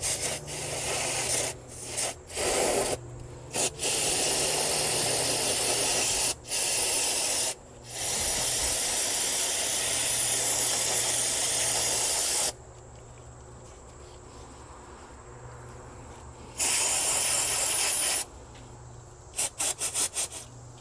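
Non-chlorinated brake cleaner sprays from an aerosol can in long loud hissing bursts with brief gaps, up close while working on a BMW E82 135i oil filter housing, ending in short rapid spurts.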